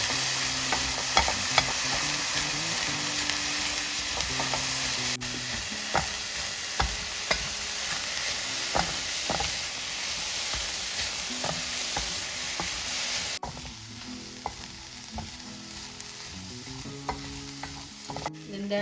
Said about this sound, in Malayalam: നമുക്ക് ഈ ഉപ്പ് പുരട്ടി വെച്ചിരിക്കുന്ന ചെമ്മീൻ ചട്ടിയിലേക്ക് അതിൻ്റെ വെള്ളാംശം ഒന്ന് വറ്റുന്ന വരെ വറുക്കാം